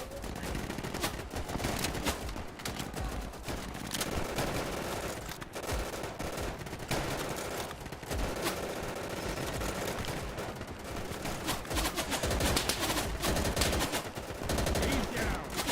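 Dense, continuous gunfire from the Easy Red 2 video game, with rapid machine-gun bursts and overlapping rifle shots that stay loud throughout the whole stretch.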